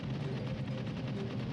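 Rapid gunfire in Donkey Kong 64, a dense steady stream of repeated shots, muffled and moderately quiet with no pauses.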